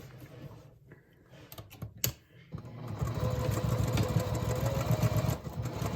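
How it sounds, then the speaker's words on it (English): Sewing machine stitching a seam in a handbag lining, a few handling clicks and then a steady, close, rapid mechanical whir running for several seconds. "So I'll go ahead and show you at least part of that sewing"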